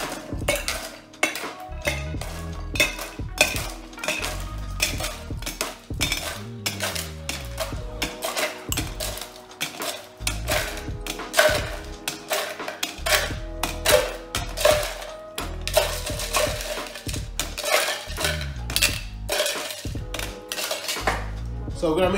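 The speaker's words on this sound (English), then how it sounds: "So we're gonna make sure our tin is full of ice, and we're gonna time the stir." Ice cubes clink and rattle steadily in a metal mixing tin as a Manhattan cocktail with bourbon and Angostura bitters is stirred, a dense, continuous close-up jangle running throughout.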